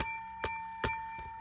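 A bicycle bell, apparently mounted for a game of bowling, rings two clear, bright dings about 0.4 s apart, close and alone, followed by a fainter third strike and a lingering metallic ring.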